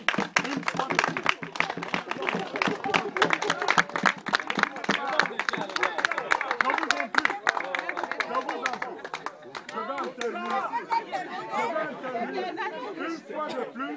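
Villagers gathered to greet an elder before a total solar eclipse clap in a scattered burst under loud crowd chatter. The clapping thins out partway through as talking voices take over.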